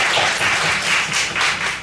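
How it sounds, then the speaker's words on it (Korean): A church congregation claps together in sustained, steady applause, full and loud, for a couple of seconds. "하나님께 영광의 박수를 힘주고 올려드립니다."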